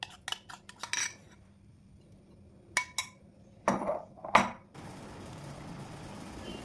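Butter cream and milk cream mixed together in a bowl at home, with sparse clinking of a utensil against the bowl in short taps and scrapes, fairly quiet and without talk.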